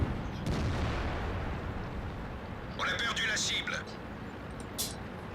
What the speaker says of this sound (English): Now their artillery is shooting at me.